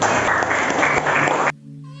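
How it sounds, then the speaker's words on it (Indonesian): A brief round of applause from teachers at the close of a school session on positive culture, a full, busy clapping sound that lasts about a second and a half and then cuts off abruptly into near silence. "Tepuk tangan buat kalian."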